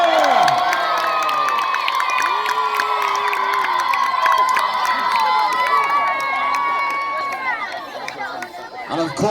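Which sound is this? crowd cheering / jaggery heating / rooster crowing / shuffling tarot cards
crowd cheering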